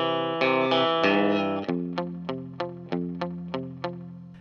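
Electric guitar playing a song intro through distortion and chorus effects, a sustained strummed chord followed by a run of evenly spaced plucked notes, clear and upfront.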